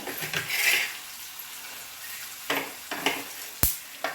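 Bitter gourd curry frying in oil, stirred in a kadai with a spoon: soft sizzling with scraping strokes, a few sharp clinks of utensil on pan near the end, fairly close and without talk.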